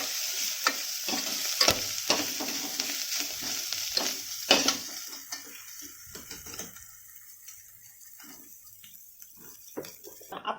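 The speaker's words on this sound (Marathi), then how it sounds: "मिरची आपली चांगली फ्राय झाली" Chillies frying in oil for buttermilk kadhi, a soft sizzle with stirring scrapes and clinks, loudest early and then quieting to a faint crackle, close with no voices.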